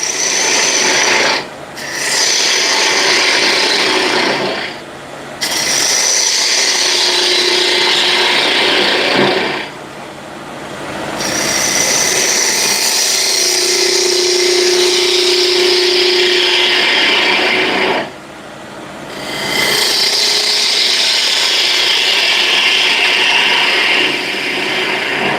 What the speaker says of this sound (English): Back with the ball gouge.